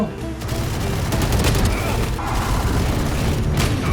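Rapid gunfire in a VALORANT free-for-all deathmatch, dense overlapping shots and bursts running the full length at steady loudness, mixed with game noise and excited talk.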